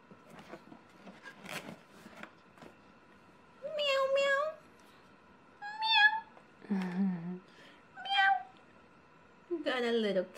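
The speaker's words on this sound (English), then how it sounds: "Got a little cat." A little cat meows several times in short, clear bursts, fairly close, between softer background noises and a person talking gently nearby.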